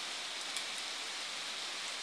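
Heavy rain falls at night, a loud, uniform hiss of drops with no breaks, filling the whole stretch without any voices.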